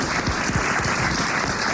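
A studio audience at a French radio comedy show bursts into dense, continuous applause, many hands clapping at once in a steady wash with no voices over it.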